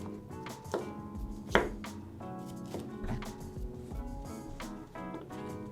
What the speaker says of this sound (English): we will chop into very thin strips.